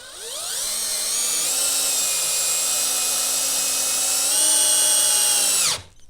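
A Festool CXS cordless drill drives 2 3/4 inch number 6 cabinet head screws with a T15 bit, giving a steady, close motor whine for about five seconds that climbs slightly in pitch near the end before cutting off abruptly.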